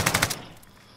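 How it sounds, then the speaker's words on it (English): A short, loud burst of rapid automatic gunfire from a first-person shooter game, four quick shots in a row before fading. "you're being shot from through the wall there, Switch"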